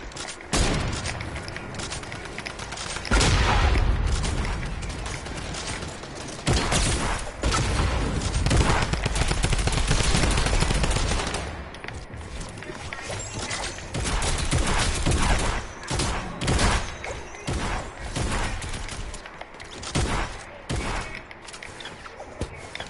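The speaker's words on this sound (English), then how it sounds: "As soon as I shoot" Sustained video game gunfire, dense overlapping bursts and booming shots that fill the whole stretch with little pause, loud and close, with occasional thuds mixed in.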